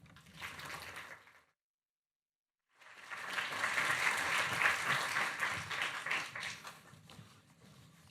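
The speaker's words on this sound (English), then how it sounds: "I always love getting a round of applause before I've done anything." An audience applauds a speaker being introduced at a talk about LGBTQIA+ archives; dense clapping breaks off into a brief silence, then returns louder and sustained for several seconds before fading slightly.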